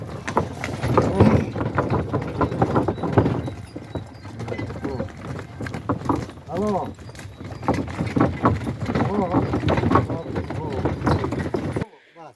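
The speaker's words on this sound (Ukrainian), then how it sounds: "кобила." Steady clip-clop of Percheron mares' hooves throughout, with people talking over it and some creaking in the background.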